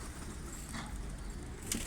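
Pigeons kept in coops on shanty-house rooftops give faint coos and a brief flutter of wings, distant and low against a quiet outdoor background.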